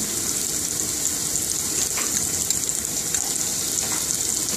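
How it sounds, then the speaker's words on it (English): Cashew nuts stirred into Kashmiri pilau rice in an Indian restaurant kitchen, a steady close sizzle and hiss of frying with faint scraping under it, continuous and even throughout. "I'm stirring the cashew nut in."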